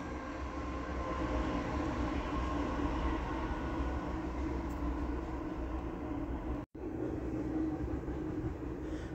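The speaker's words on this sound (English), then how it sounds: "I got a train coming, so let me pause for the calls and let this train go by real quick." A train passing by outside, heard as a continuous loud broadband rumble and roar that holds steady for the whole stretch with a brief dropout near the end and no talking.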